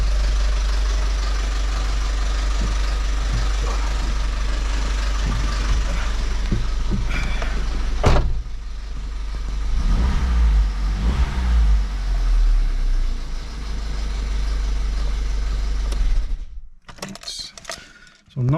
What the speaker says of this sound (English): that's 20 minutes now of idling with the engine flushing.